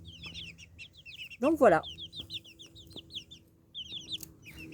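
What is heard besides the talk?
Pekin hens clucking in chicken coop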